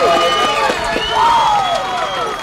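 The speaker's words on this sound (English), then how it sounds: "you probably hear some good ambient noise out there by the crowd and the cheerleaders and the team" Crowd and cheerleaders at a high school football game between Handford West and Ridgeview, a steady wash of cheering and shouting voices at a distance, with chant-like rising calls over the noise and no clear speech.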